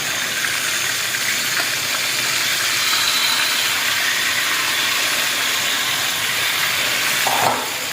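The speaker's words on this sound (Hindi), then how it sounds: "अब इनको भूनेंगे अच्छी तरह से" Chicken with spices and a little water frying in a pot for biryani gives a steady, even sizzling hiss throughout, with a brief faint clink near the end and no voices.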